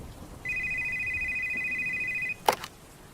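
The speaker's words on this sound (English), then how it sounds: "the phone started ringing" A telephone rings once with a steady electronic double-tone trill lasting about two seconds, followed by a brief click.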